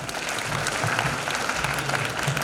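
Sustained audience applause at a university convocation as graduates are called forward, a dense, even wash of many hands clapping with a faint murmur underneath.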